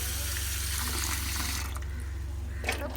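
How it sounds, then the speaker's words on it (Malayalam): Ash gourd pieces are rinsed in a bowl of water, giving a steady wet sloshing and splashing with a low constant hum underneath, and a few louder splashes near the end. "ഈ നല്ല വെള്ളത്തിലേക്ക് ഇങ്ങനെ രണ്ട് മൂന്ന് വട്ടം നമുക്ക് കഴുകിയെടുത്ത് വരാം"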